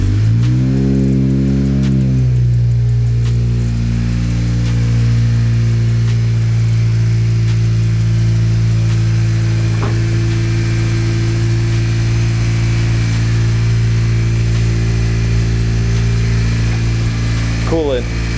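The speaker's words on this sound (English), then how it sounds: "Let's get the official start up on camera." Engine of a 10th gen Honda Civic Si with an upgraded 27WON W1 turbo, settling into a loud, steady idle right after startup, its low hum continuous and close.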